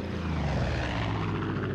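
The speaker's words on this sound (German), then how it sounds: "Moment, geht das mit dem Flugzeug die ganze Zeit so weiter?" A propeller airplane in the video game Far Cry 5 flies overhead with a loud, continuous droning engine roar that holds steady and close for the whole moment.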